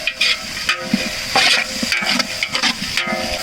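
Onions and tomatoes sauté in a pot for a village-style chicken biryani, giving a steady close sizzle with scraping stirs and soft bursts of frying noise throughout, no voices.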